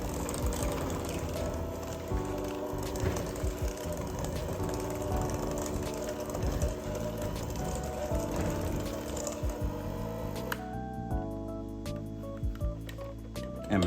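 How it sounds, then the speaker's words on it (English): An electric mixer whirs and rattles through tea cake batter in a continuous close mechanical churn. The tone changes near the end as the speed or load shifts, with no talking. "I just want to start it with the mixer."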